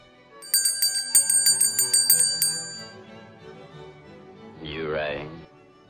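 A bell rung to summon a butler, a rapid series of about a dozen bright metallic dings up close, followed by a short voice.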